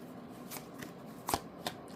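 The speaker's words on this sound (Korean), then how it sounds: "자, 카드 나열하겠습니다" Tarot cards laid out on a table: a few soft, papery slaps and slides as individual cards are placed one after another, close and faint, in a quiet room.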